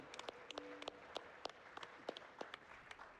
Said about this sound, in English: Get another round of applause for that.